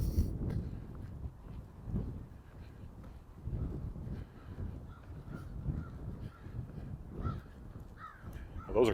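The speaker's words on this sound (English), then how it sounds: "Well, those are crows." Crows caw repeatedly in a city park in Regina, several calls overlapping at a moderate distance, over low wind rumble outdoors.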